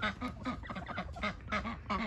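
A Turken hen, a naked-neck chicken on a homestead, gives a quick run of short, close clucks in an uneven rhythm with no talk.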